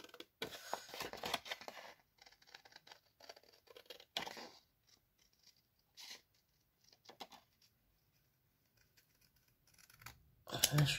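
Scissors snip away excess paper in an art journal, giving several short crisp cuts and rustles in separate bursts with quiet gaps between them, close by, with talk heard between the cuts.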